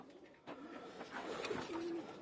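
Pigeons coo softly in a loft, a few low murmuring calls rising toward the end over a quiet background.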